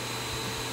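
An orbital sander with screen sanding media and vacuum dust extraction pulled through holes in the pad gives a steady, loud whooshing roar for a brief moment, with no talk.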